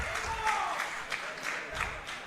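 A wrestling crowd cheers and claps for Ezabella Wilder in a women's match, a dense, steady roar of noise with a few louder bursts of claps and shouts.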